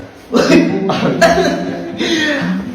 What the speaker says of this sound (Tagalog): Ubo ko ah.